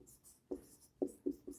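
Marker on a board as a teacher writes C code: a few short, distinct squeaky strokes in irregular rhythm, close and fairly quiet, with no talking.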